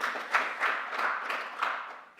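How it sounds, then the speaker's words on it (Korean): An audience at an industry-academia exchange conference applauds after a presentation, the clapping rising and falling in loose waves, moderately loud, then tapering off toward the end. "여러분 박수 좀 한번 보내주시죠"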